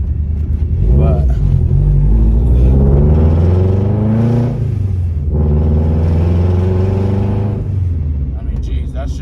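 A 500+ horsepower Subaru Forester XT with a loud exhaust cruises off boost, its deep droning rumble rising and falling through two long gear pulls, close and dominant inside the car.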